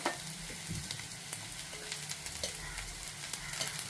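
Onions and chopped green chilies fry in a pan, with a soft, steady sizzle under intermittent stirring scrapes and taps, fairly quiet and close.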